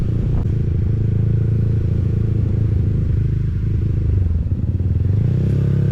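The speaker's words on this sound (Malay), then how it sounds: "Motor bising." A noisy scooter-style motorcycle rolls slowly along a village road near Pasar Payang in the early morning, its engine making a steady, loud, low rumble with some rattling throughout.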